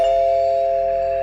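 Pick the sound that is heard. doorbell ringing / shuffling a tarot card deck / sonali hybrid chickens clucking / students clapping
doorbell ringing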